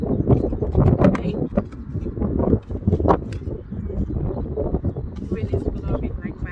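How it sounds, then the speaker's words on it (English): Strong outdoor wind buffets the microphone, a heavy, uneven low rumble that roars and dips continuously throughout. "Wind is blowing like mad."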